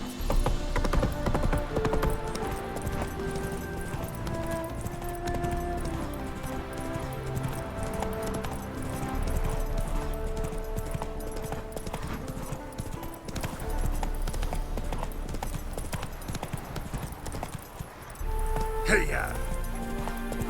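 A horse gallops in The Witcher 3: Wild Hunt, its hooves making a steady, rhythmic clip-clop under game music, with a rider's voice calling out.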